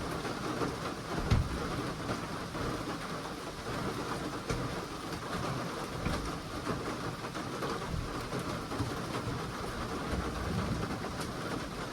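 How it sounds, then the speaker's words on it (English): Rain falls steadily as thunder rolls during a rainstorm, a dense continuous wash of noise with a low rumble and a brief heavier thump near the start. "And there's the thunder."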